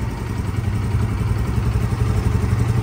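A Hero scooter engine just started and idling close by, with a steady mid-pitched putter and slight clatter, continuous and fairly loud, with no talking.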